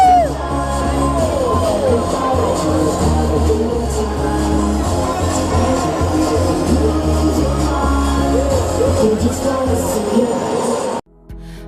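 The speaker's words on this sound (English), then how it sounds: "This crowd is insane." A party crowd in Las Vegas cheers and whoops at a loud, constant level, with voices shouting over pounding music that cuts off abruptly near the end.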